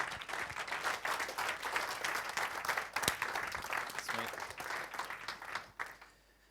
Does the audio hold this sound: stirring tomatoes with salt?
no